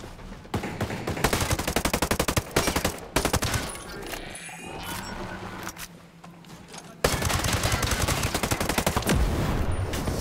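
Rapid automatic gunfire aimed at a robot in Ghost Recon Breakpoint, dense rattling bursts with short pauses that resume loudly near the end, plus a brief speaking voice in between.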